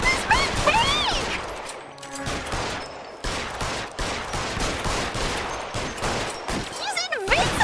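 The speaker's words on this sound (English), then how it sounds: "How many shots did this man take?" Rapid bursts of gunfire in the video game L.A. Noire, dense and repeated across the whole stretch, with brief whistling and whooping sounds at the start and end.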